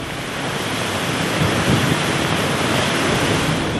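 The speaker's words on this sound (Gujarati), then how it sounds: "શહેરમાંથી પસાર થતી નાવલી નદી બે કાંઠે વહેતી થઈ છે" Rushing floodwater of the Navli river running bank to bank after heavy rain, a loud, continuous broadband roar with no breaks.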